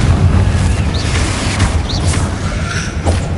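A Confringo explosion spell in Hogwarts Legacy bursts with a loud rumbling boom, followed by a sustained roar and a few brief whooshing and crackling accents close by.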